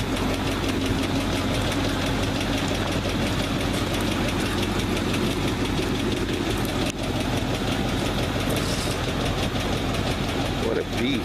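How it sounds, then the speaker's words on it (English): A big 1959 GMC 550-Series dump truck engine idles loudly and continuously, with a steady mechanical knocking rattle from a rattling lifter running through its rumble for the whole stretch. "I hear a lifter rattling."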